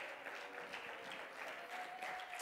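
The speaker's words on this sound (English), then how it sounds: "Let's clap our hands and praise Him again." Congregation clapping hands during a Sunday morning church service, a steady wash of applause filling the room at moderate level throughout, with no clear voices over it.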